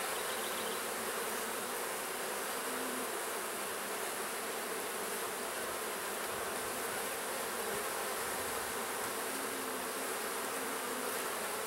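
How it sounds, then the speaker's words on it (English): Honey bees buzzing in an open hive during a week-one inspection, a dense continuous hum filling the air at close range, with no voices. "Very young, small bees."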